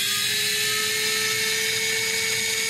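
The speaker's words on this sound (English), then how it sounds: "We're just going to pop a couple bolts out here." A powered hex driver spins out small bolts from the links of a CEN Racing F450 RC truck, a steady high-pitched whine held close and continuous without pause, no voices.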